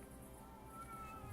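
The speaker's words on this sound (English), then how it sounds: "hearing a lot of cats." Game cats meowing in a medieval Bohemian setting, a soft, short mew or two sitting low in a steady background of ambient hum, brief and fairly faint.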